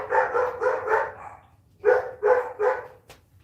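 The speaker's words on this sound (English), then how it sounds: "our dogs are barking." Dogs bark in two quick bursts of sharp, repeated woofs, four and then three, at moderate distance with a short pause between, and no talking.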